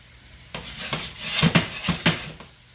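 Shiitake mushrooms are sautéed in a pan, heard as a few brisk scraping and rattling strokes of a utensil against the pan over a faint background sizzle, with no talking.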